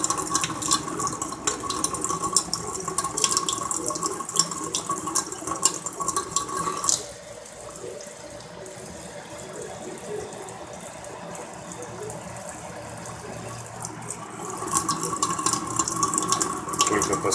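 Tap water runs steadily into a sink, switching between plain flow and a tap-mounted filter, a continuous splashing rush that softens midway and then grows stronger again.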